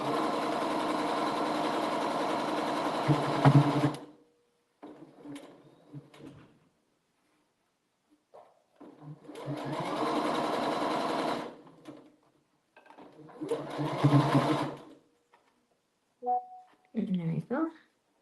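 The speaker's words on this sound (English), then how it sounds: "I'm just going to sew through that." A sewing machine stitches through a quilt block in several steady running bursts, each a few seconds long, separated by quiet pauses with soft handling sounds.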